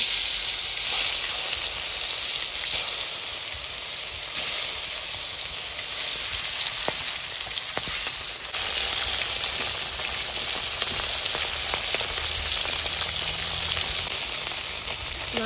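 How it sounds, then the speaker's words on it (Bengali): Tilapia fish fry in hot oil in a wok, with a continuous crackling sizzle at moderate loudness and scattered sharper pops, heard alone for the whole stretch. "বাকি মাছগুলোকে ভেজে নিচ্ছি।"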